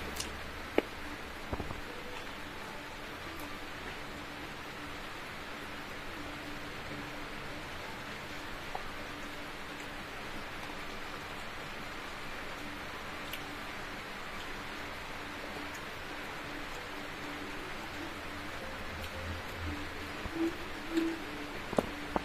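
Afternoon rain falls outside a house as an even, steady hiss that lasts throughout, with a few faint knocks and no talking.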